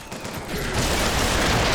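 Automated turret in BioShock Infinite opening up with a dense, sustained burst of rapid gunfire that swells and holds loud to the end.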